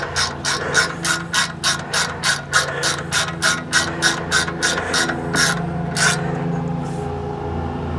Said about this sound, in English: That's my built-in torque wrench.